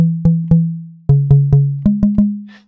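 An FM synthesizer plays short, plucked, bell-like notes in a quick uneven rhythm, about ten sharp attacks at three slightly different pitches, each decaying fast, loud and alone, ending with a brief faint noisy wisp.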